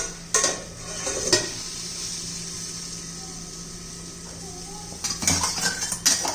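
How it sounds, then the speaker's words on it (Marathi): A metal lid clanks onto a pan of eggplant bhaji, with a few sharp clinks at the start and a cluster of knocks near the end over a quiet, steady kitchen hum. "याच्यावर आपण आता झाकण ठेवून देऊ"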